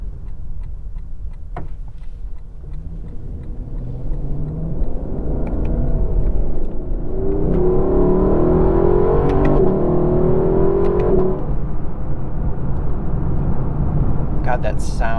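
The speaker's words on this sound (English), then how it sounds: "God, that sound is just epic." A 2021 Lexus LC 500's engine builds from a low idle rumble into a strong, sustained rev that swells around the middle and then holds, heard from inside the car with faint ticking and clicks.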